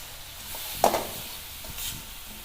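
Grated coconut and date palm jaggery are stirred in a pan for gokul pitha, with a single brief scrape and a softer follow-up stir over a faint background hiss.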